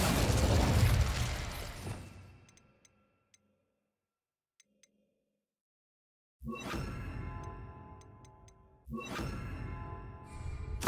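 Incendio fire spells in the video game Hogwarts Legacy go off in three loud bursts, each a whooshing blast that fades. Near-silence with faint ticks fills a long gap between the first and second.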